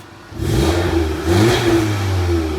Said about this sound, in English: so we'll give it a little rev